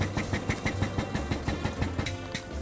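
A Benz Patent Motorwagen's 900cc single-cylinder engine chugs along at a slow, even beat while climbing a slope, each firing pulse distinct and close, with a steady mechanical clatter and no talk.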